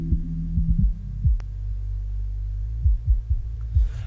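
A bass-only music mix, isolated with a filter during mastering, plays alone: deep throbbing low notes and kick-like pulses in a steady groove, with no voices.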